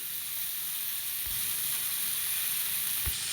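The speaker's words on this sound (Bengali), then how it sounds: "এবার খুব সুন্দর করে ভেজে নিচ্ছি।" Potatoes and paneer sizzle steadily in a hot pan for a street-style samosa filling, with a constant bright frying hiss and a couple of soft stirring knocks, no voices.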